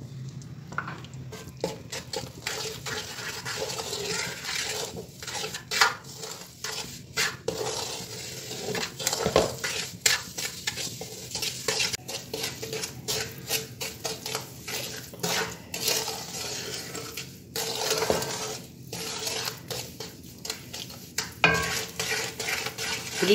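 Flour roasts in a pan while a spoon stirs and scrapes steadily, with frequent metallic clinks and knocks against the pan over a soft sizzle, close and irregular in rhythm.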